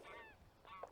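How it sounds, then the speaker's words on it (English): A couple of geese honk briefly, their calls faint and distant against a quiet outdoor background. "That's geese you can hear."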